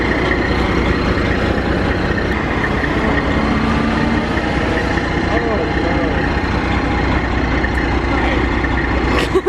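Truck engine idling nearby, a steady low rumble running unbroken through the whole stretch, with people talking over it at a car salvage auction.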